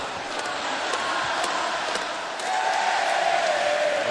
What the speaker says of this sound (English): As the crowd serenades the Cleveland Cavaliers.